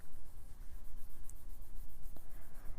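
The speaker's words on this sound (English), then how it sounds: "I smudge." Soft, steady rubbing of pencil lines being smudged on paper while drawing a kawaii manga Princess Zelda, a close, quiet brushing texture that continues throughout without talk.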